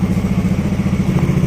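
A Yamaha XMAX 250 scooter engine idles close and loud, a steady rapid low chugging pulse with light mechanical clatter throughout.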